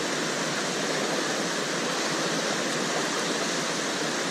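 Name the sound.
river water flowing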